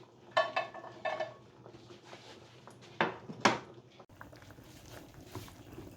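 Stirring onions in a pot of zucchini soup on a stovetop, with a few distinct scraping clinks of a utensil against the pot, two quick pairs early and two sharper ones mid-way, over a low steady background hum.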